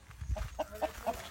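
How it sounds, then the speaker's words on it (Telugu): Chickens jumping over a wall cluck softly, a string of several short, quiet clucks at an even rhythm. "ఆ కోళ్ళేమో గోడ దుంకిపోతున్నాయి"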